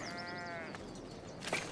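Sheep bleat on a sheep farm in a medieval city-building video game, with a short wavering bleat at the start and a brief brighter call near the end, moderately loud with no talk.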